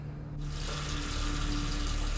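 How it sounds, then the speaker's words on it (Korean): Water running in a bathroom, switching on abruptly and then pouring in a steady, full hiss that continues to the end. "또다시 들려오는 물소리"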